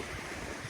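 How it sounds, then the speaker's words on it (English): Rushing water from a fast-flowing, very full river in wet country near Tumut, a steady broadband roar with no voices, close and constant throughout. "The locals call it the Goob, which is flowing fast and is very full."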